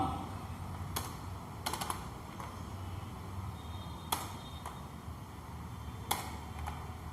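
Fingers tap on a computer keyboard while Java code is entered, a quiet, sparse patter of keystrokes with short bursts and pauses between them.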